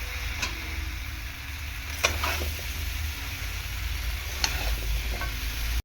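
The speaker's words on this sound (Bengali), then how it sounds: "পুঁই শাকটা দিয়ে দিয়েছি দিয়ে ভালো করে নাড়াচাড়া করে নেব" Malabar spinach, pumpkin and potato stir-fry in a pan with a continuous close sizzle, with a few sharp utensil scrapes and knocks as the vegetables are tossed, and no voices.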